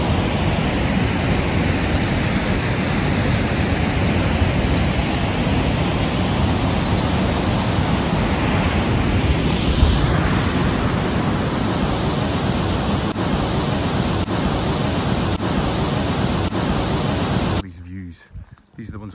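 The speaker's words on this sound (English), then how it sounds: "You hear the water thundering off the falls there." Water thundering off the falls at the Devil's Cauldron near Comrie, Scotland: a dense, unbroken roar that fills the whole clip at close range, with faint clicks near the end before it cuts out.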